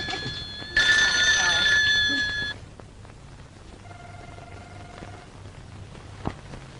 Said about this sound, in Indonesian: Teleponnya tak ada yang angkat.